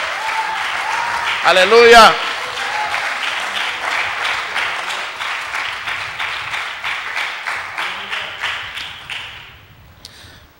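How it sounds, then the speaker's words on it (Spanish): Church congregation applauding God at a sermon, steady rhythmic clapping for about ten seconds that fades toward the end, with a preacher's voice and an exclamation at the start. "Denle el aplauso a Dios."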